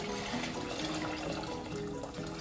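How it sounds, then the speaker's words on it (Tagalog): Tap water pouring into a cooking pot for boiling, a steady, continuous rushing gush that stays even throughout, close by with no talking. "So, ayan, lagyan lang natin ng tubig."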